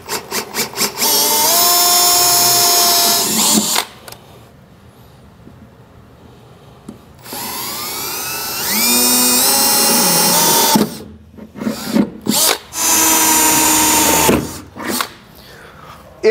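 A power drill bores through the bed of a 2018 Chevy pickup truck during a fifth wheel hitch installation, its high whine rising in two long loud runs, then several short bursts, with a quiet pause between.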